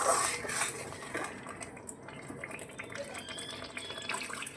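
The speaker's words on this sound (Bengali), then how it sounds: "এবার আমি এই পর্যায়ে জল দিয়ে দিচ্ছি।" Water goes into fish curry masala in a pan, giving a soft, continuous splashing and pouring wash with faint clinks of the pan, fairly quiet throughout.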